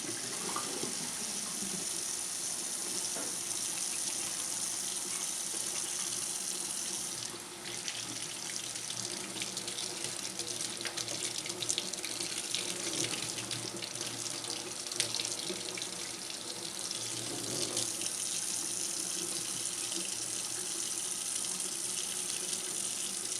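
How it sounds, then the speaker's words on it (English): Cold tap water running steadily into a sink while a charcoal filter from a stainless steel multi-pet drinking fountain is rinsed, a continuous close splashing gush with slight shifts as the filter is moved under the stream. "I'm just going to give it a good wash with some cold water."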